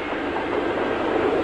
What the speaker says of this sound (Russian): Вот сейчас поезд пойдет